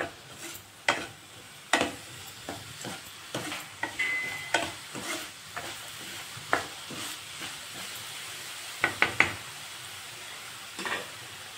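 Onions fry in a pan with a low sizzle while a spatula scrapes and clacks through them in repeated, uneven strokes as they brown toward golden.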